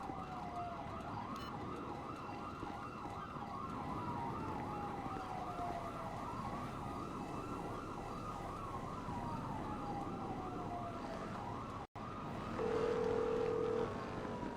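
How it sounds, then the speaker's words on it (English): Sirens wail steadily in a video game, an oscillating emergency-vehicle siren looping continuously under a low rumble of traffic, moderately loud and unbroken apart from a brief dropout near the end. "Heard a lot of sirens."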